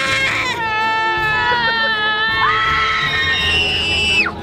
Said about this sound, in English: Let out some frustration and just scream